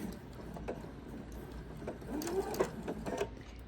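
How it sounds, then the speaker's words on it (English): Sewing machine running steadily as it stitches diagonally off the corner of a quilt binding; a soft, continuous mechanical whir throughout, fairly faint and close, with no one speaking. "until you can see that the corner of your fabric is matched up with your needle. And you'll sew diagonally off."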